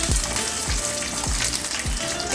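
Green chilies crackle and sizzle in hot oil in a heated pan, a steady dense hiss with a few sharper pops spaced through it, close and fairly loud, no voices.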